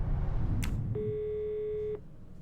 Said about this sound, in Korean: 어? 전화 오네.